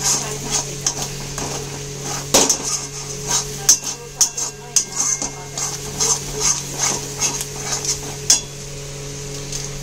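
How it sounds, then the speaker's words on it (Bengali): A utensil scrapes and clinks in a pan as spices with coriander powder are stirred and fried, giving irregular metallic knocks and scrapes over a steady background hum. "আর হলো ধনে গুঁড়ো দিয়ে এবার ভালো করে এটাকে একটু কষিয়ে নেব"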